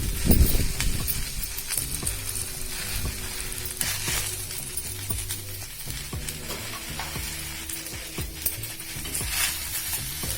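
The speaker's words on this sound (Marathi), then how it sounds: "आता आपण ही भाजी थोडी भाजून घेणार आहोत एक दोन तीन मिनिट" Taakla greens roast in a pan, with a continuous close sizzle and hiss overlaid by frequent stirring scrapes and light clinks of the spoon against the metal pan.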